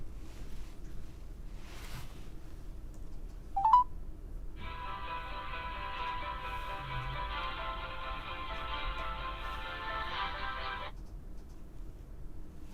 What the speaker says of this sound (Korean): 전화 연결해 보겠습니다